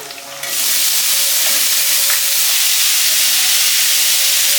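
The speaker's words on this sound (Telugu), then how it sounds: "ఆవాలు జీలకర్ర పచ్చిమిర్చి కరివేపాకు ఈ పనస వేసేసుకోవాలి" Mustard seeds, cumin, green chillies, curry leaves and jackfruit hit hot oil in a Telugu kitchen, bursting into a loud, steady sizzle and hiss that holds without a break after a quieter opening.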